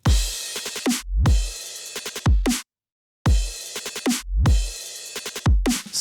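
An electronic drum group plays a drop section with punchy booming kicks, snappy hits and fast rhythmic stutters in a repeating two-bar pattern, loud and dense, broken by a short gap of silence.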